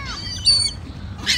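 Birds being fed bread at a picnic give a couple of short, sharp squawks close by over quiet outdoor background noise.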